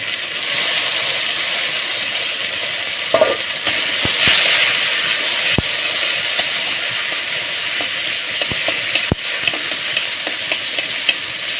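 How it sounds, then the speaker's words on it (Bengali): Washed lentils fry lightly in a pan with a steady, bright sizzle, broken now and then by sharp clicks of a utensil stirring, close and continuous with no talk. "আজকে ডালটা একটু হালকা ভেজে নেবো"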